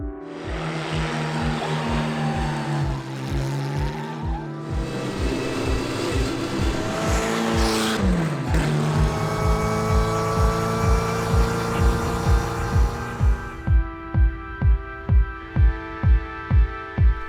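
A Pur Sang recreation of the Bugatti Type 35 vintage racing car drives past loudly, its engine revving and rising in pitch through gears before settling into a slow, rhythmic idle chug.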